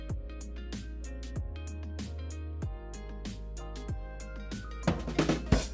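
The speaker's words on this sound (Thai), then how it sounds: "มันก็จะเป็นเสียงมุกแบ็กหรือเสียงที่ได้ทำการเปลี่ยน" A custom Line message notification sound plays on an OPPO Android phone, a quiet music-like jingle of plucked tones over a steady low hum, getting busier and denser near the end.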